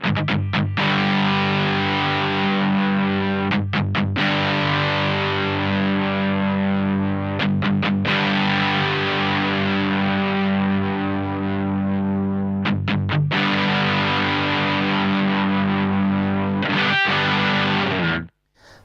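Electric guitar driven through a Menatone The King overdrive pedal on its modern EQ setting, playing loud sustained distorted chords in several strummed phrases with brief gaps, ending abruptly near the close.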